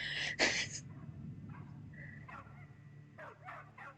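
A dog barks in a Pikmin game trailer, a few short yips and barks scattered over background music, faint and mid-distance, after a brief louder burst at the start.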